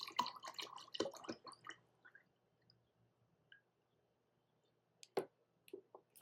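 Tampico juice drink glugs and splashes into a glass for a couple of seconds, followed by scattered drips and small clinks in near silence.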